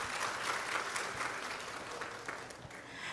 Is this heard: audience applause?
yes